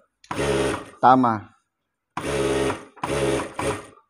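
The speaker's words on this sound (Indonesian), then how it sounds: "Kamu jahit dulu ini." Sewing machine stitching a front pocket, loud close bursts of rapid mechanical whirring, several runs separated by pauses, with a brief voice in one gap.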